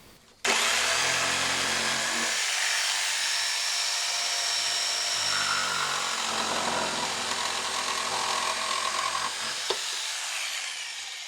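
A power jigsaw saws a rough outline out of a wooden board, a close, continuous buzzing rasp that starts abruptly and runs steadily for about eleven seconds before cutting off, with no talking.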